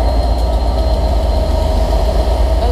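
A Class 67 diesel locomotive, number 67014, at Cardiff Central station, a loud steady low engine rumble with an idling drone, heard close and unbroken with no talk.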